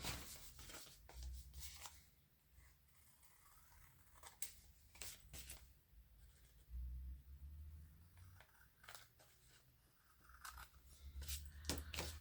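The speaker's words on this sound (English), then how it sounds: "I'm just going to trim away that coffee stain paper top and bottom." Scissors snip steadily through coffee-stained paper, trimming its top and bottom edges in a run of close, crisp cuts with short pauses between, alone with no talking.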